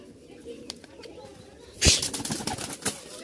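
Rajshahi Tiger Giribaz pigeons, with soft cooing and a sudden burst of wing flapping midway, close by over a faint background.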